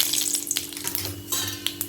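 Mustard seeds and urad dal tempering in hot oil for rava upma, crackling and sizzling with sharp pops and light clinks of a pan, close and fairly loud.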